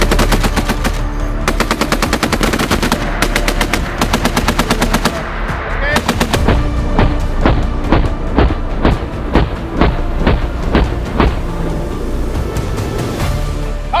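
Crew-served machine gun firing on a Marine training range at JGSDF Camp Nihonbara, loud and close in rapid sustained bursts with short pauses, shots packed tightly together for most of the stretch.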